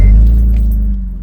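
Acura TL engine idling through a split, rusted-out exhaust with a big hole at the bottom, giving a loud, steady low bass rumble that stays close and constant with no talk.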